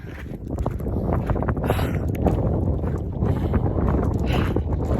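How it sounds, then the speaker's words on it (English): Wind blowing through a snowy scene at about 32 degrees, a loud, steady broadband rush and buffeting against the microphone that swells slightly in gusts, with no speech. "And the wind's blowing."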